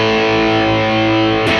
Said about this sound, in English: Got the distortion here.